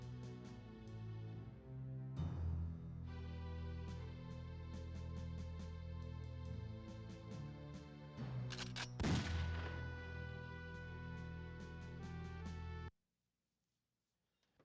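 Bombing run in the strategy game Allied General: a continuous wall of dense booming and crackling battle noise with a few sharper blasts near the middle, loud and steady, then cutting abruptly to silence.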